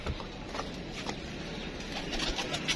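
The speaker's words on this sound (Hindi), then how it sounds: "लेके आओ अली भाई कबूतर लेके आओ" Pet flying pigeons being handled for sale, a continuous low cooing murmur with soft scattered flutters and clicks, close and even in level, no voices.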